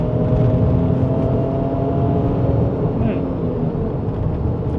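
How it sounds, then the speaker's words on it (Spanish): A Ford Bronco Sport accelerating at full throttle in Sport mode, heard from inside the cabin as a loud, steady engine drone and road rumble that holds for about five seconds, with a voice present. "vamos a poner el modo Sport,"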